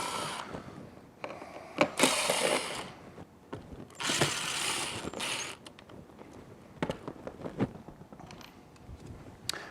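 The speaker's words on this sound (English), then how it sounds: "we're going to be taking screws out only around the outside rim" Screws being backed out of the metal amp plate on a PA speaker's plastic housing, producing repeated creaking, ratcheting turns in several close, loud bursts with pauses between them.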